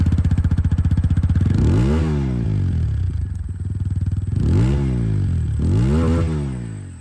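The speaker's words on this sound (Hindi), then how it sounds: "अब दोनों ही बाइकों की जो एग्जॉस्ट साउंड है बारी बारी से वो आप सुन लीजिए" A 2023 TVS Apache 200 4V motorcycle with a dual-barrel exhaust idles with a rapid, throbbing exhaust pulse, then revs sharply up and down three times, close and loud.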